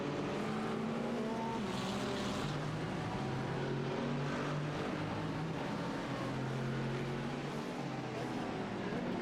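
GT3 race cars lapping at Daytona during a six-hour endurance race, a steady blended engine roar from a pack of cars with no clear single pass-by.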